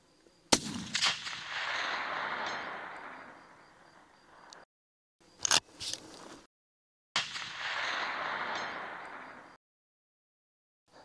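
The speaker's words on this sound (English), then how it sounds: "both shots were in the steel, a little bit to the right because of wind" Rifle shots fired at a steel target, two sharp cracks each trailed by a long rolling echo across open ground, separate and distinct, with no talk.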